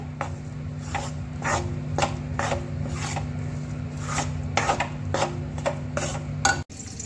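Gram flour roasting in ghee in a pan, stirred with repeated rasping scrapes at a steady rhythm, close and clear with no talking, ending in a brief knock.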